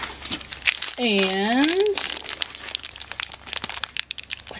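Plastic packaging of a Shopkins blind basket is ripped open, giving a run of sharp, crinkling tears and crunches up close, while a voice speaks briefly early on.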